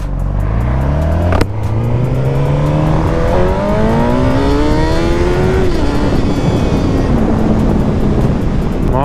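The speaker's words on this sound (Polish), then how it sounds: "Mocne te motocykle są." Motorcycles on the road, with a loud, close engine roaring as it accelerates, its pitch climbing through the gears over steady wind rush.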